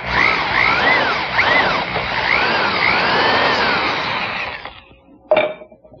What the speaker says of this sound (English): drill very carefully